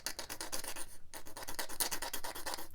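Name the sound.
glass file chattering against plastic model kit part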